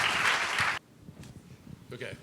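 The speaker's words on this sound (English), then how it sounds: "please join me in giving a round of applause to the ambassador" Applause for an ambassador at a climate and trade event, a dense burst of clapping that cuts off abruptly, followed by quieter room sounds and a faint voice.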